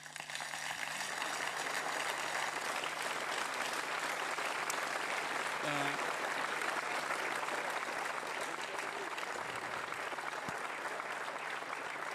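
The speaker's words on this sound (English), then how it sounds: "I want a big round of applause for them" An audience at a Vega-C rocket launch event gives a long round of applause, an even, hissing wash of clapping heard at low volume from a distance, with a steady hum beneath it.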